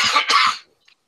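A single close cough, two quick harsh bursts in succession, then silence.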